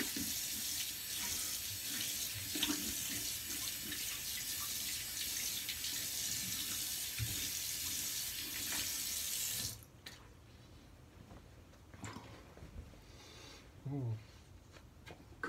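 A bathroom tap runs steadily as a man rinses his face after a shave, a loud, even hiss of water that stops abruptly partway through, leaving quiet handling sounds and a few brief splashes.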